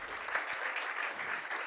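Faint, continuous applause from an audience at the end of a machine learning talk, a short spatter of clapping heard from a distance with no voices.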